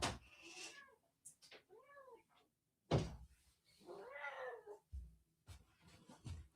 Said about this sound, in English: I have cat meowing at my door.